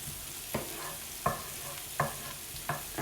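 Onions frying in a pan, a continuous sizzle broken by four evenly spaced scraping stir strokes about every three-quarters of a second, close and moderately quiet with no talk.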